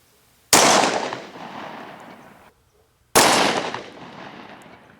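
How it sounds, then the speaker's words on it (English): Two loud, close gunshots from a Glock 10mm pistol firing 200-grain Underwood full metal jacket rounds, each a sharp crack with a long echoing decay, about two and a half seconds apart. "We're shooting 200 grain Underwood ammunition, full metal jacket, 10mm."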